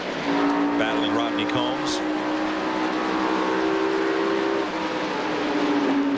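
Stock cars in a 1996 televised race charge into a corner, a loud sustained engine drone with rising tones under an excited commentator's voice.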